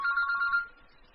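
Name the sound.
mobile phone ringtone ringing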